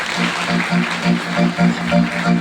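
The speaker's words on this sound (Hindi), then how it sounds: "एक बार mannan sir, Masood sir, मकफूर sir के लिए जोरदार वाला ताली हो जाए सर" Audience at an RCM gathering in Araria applauds loudly, with a steady wash of clapping and a rhythmic musical pulse beneath it, lasting a couple of seconds.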